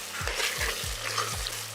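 Chili powder, turmeric and ginger garlic paste are stirred in a hot pan, making a close sizzle broken by quick rhythmic scrapes of a spoon.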